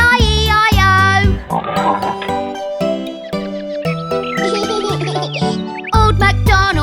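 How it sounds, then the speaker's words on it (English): Repeated cartoonish pig oinks in a children's farm nursery rhyme, set against bright, jingling music that plays loud and continuous throughout. "With an oink oink here and an oink oink there"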